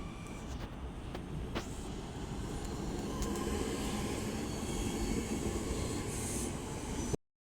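A two-carriage Northern class 323 electric train runs at Manchester Airport, its steady rumble of wheels and motors rolling past at moderate distance, with a few brief metallic squeals and clicks over the top.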